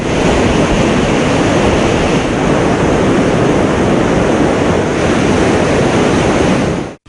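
Godavari floodwater pours through the Dhavaleswaram barrage in a loud, continuous roar of rushing water, a dense unbroken wash with wind buffeting the microphone, ending abruptly.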